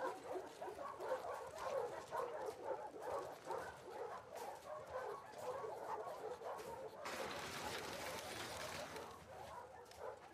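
Dog in The Last of Us Part 2 video game, repeated soft barks and whimpering yips in a steady run, faint under ambient background, with a brighter burst of noise near the end.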